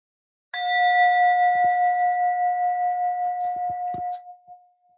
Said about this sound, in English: I'll just invite the bell